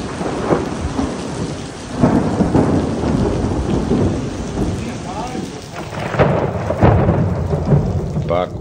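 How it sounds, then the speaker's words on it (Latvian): Thunderstorm in the mountains of the Balkans, with steady heavy rain pattering on surfaces and repeated rumbling thunder rolling in at intervals, loud and close, with no one speaking. "Pērkons zibeņu abās kalnu pusēs."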